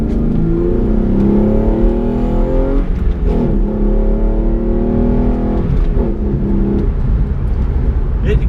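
A 3.8 R-Spec V6 car engine accelerates hard, its steady low drone climbing in pitch through the gears, loud and close, with a voice talking over it.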